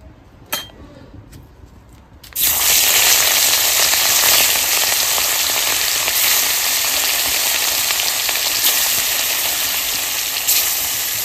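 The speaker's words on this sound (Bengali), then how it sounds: "এদিকে মাছ ভাজা হচ্ছে" Fish dropped into hot oil bursts into a loud, continuous sizzle after a couple of seconds of quieter clinks, and keeps hissing steadily to the end.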